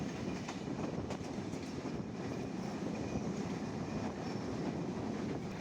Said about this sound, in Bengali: আমাদের ট্রেন থ্রোপাস করছে পাবনা জেলার ভাঙ্গুড়া রেল স্টেশন